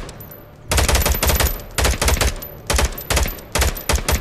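Gunfire in the Onward VR shooter on Oculus Quest comes in loud, rapid automatic bursts, several clustered volleys separated by short gaps.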